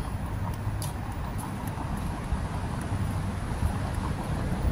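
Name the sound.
wind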